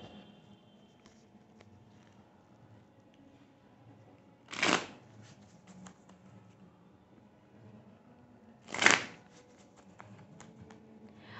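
Oracle cards are shuffled in two short, crisp bursts several seconds apart, close to the mic, with near silence between them.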